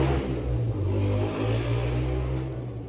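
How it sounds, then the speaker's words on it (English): Street traffic drifts in through open apartment windows, a steady low car rumble with a vehicle accelerating and fading, continuous and moderately loud with no talking. "I open back the windows, that's why you're hearing all the traffic"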